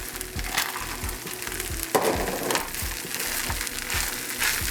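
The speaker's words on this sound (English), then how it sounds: "We're just going to throw our frozen peas in there." Frozen peas tossed into a sizzling pan of five-spice fried rice, a close crackling fry with repeated scraping stir strokes and a sharp burst as they land.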